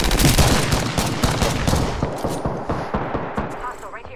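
Gunfire in the Apex Legends video game: loud, dense bursts of rapid automatic shots close up, easing into sparser, fainter volleys toward the end.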